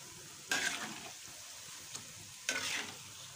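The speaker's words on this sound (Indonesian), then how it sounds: "Selanjutnya goreng nuggetnya" Chicken nuggets fry in hot oil in a pan, a continuous soft sizzle broken by two loud bursts of crackling and stirring scrapes, close up with a small tap between them.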